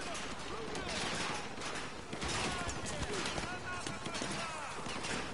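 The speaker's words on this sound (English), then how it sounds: "Take out those machine guns, eh?" Dense machine gun fire and explosions in the Call of Duty: Modern Warfare 2 Remastered video game, a loud continuous barrage of rapid shots with a voice speaking over it.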